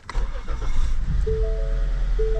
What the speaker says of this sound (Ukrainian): Машина запустилася.